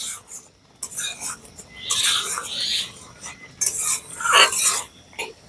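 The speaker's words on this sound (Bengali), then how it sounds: "টমেটো বাটাটা দেওয়ার পরে একটুখানি ভালো করে কিন্তু কষিয়ে নিতে হবে।" Tomato paste with Kashmiri chili powder is stirred and scraped in a pan, with continuous close scraping and clinks of a utensil. Some voice-like sounds appear faintly in the background.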